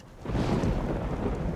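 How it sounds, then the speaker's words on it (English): Thunder rolls through a video game storm, a deep rumble swelling after a brief lull and holding steady under a wash of rain-like noise. "I love the sound. Like, this storm is insane."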